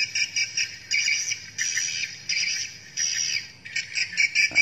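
A recorded PJW bird mating call plays as repeated harsh, squawking chirps in short bursts with brief gaps, loud and close, with a louder rapid flurry at the end.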